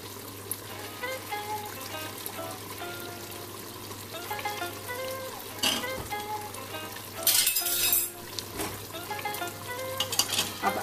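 Beef boti masala with chili sauce and vinegar fries in a pan, giving a steady sizzle under repeated stirring and occasional clinks of a spoon against the pan.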